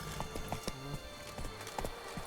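The horse Roach's hooves clop in The Witcher 3: Wild Hunt, Blood and Wine, with quiet, evenly spaced strikes in a trotting rhythm over soft ambient background.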